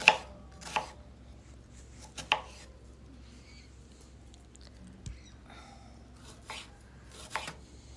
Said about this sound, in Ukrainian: І так, цибульку дрібненько нарізаємо.